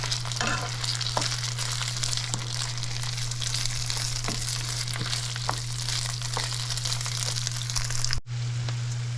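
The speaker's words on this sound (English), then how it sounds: "we're going to put the rice in there and get it toasted for about 3 to 4 minutes" Rice toasting in a hot pan for Spanish rice gives a dense, continuous sizzle and crackle with occasional stirring scrapes, loud and close over a steady low hum, cutting off briefly near the end.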